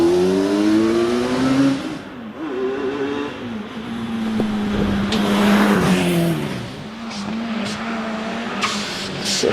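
A Radical Pro Sport race car climbs the Prescott hillclimb course, its engine revving hard and rising through gears, dipping on upshifts and braking, then surging again as it passes nearby.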